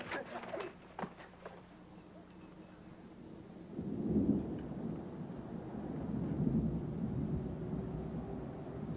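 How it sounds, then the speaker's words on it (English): Rolling thunder rumbles low and heavy through steady rain in a gathering thunderstorm. A few sharp knocks come early, then a long swelling roll builds and lingers. "the storm looks like it could get pretty rough."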